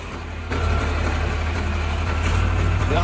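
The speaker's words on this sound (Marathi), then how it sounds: "आपला भाऊ आता चालवते ट्रॅक्टर" A tractor engine runs in a village setting with a deep, steady rumble that steps up in loudness after a moment and keeps chugging close by.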